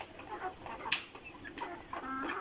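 Tiger breed chickens and a rooster cluck softly on a farm in Chattogram, scattered short calls overlapping at moderate distance.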